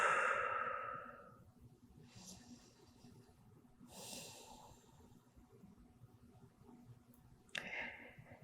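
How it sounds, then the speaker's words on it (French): Slow, deep breaths drawn in through the nose during a yoga session, heard as soft airy inhalations and exhalations spaced a couple of seconds apart, close and quiet with faint room hum. "prenez des longues inspirations par le nez."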